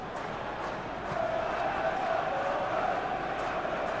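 Football stadium crowd in the Football Life 2026 video game, a steady low murmuring roar kept at quiet volume, swelling slightly after the first second and holding level throughout.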